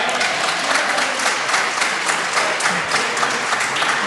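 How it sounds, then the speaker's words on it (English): Members of parliament applaud in a debating chamber, a dense sustained burst of many hands clapping at close range with no pauses. "It's so nice when the other side keep clapping every time I stand up."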